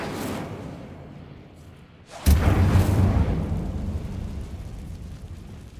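An Incendio fire spell from Hogwarts Legacy erupts in a sudden loud blast after a quieter stretch, followed by a rumbling, crackling roar that slowly fades.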